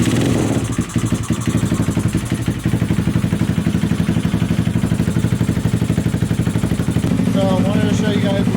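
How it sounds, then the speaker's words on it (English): A Honda CBR300 motorcycle fitted with a big bore kit runs steadily nearby, its loud engine idling with a continuous throbbing rumble for the whole stretch. "I have the bike charging, and I wanted to show you guys it runs"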